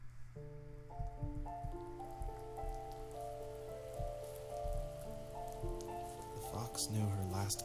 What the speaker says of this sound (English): The rain cascaded onto the jade valley where the entrance to the tree was.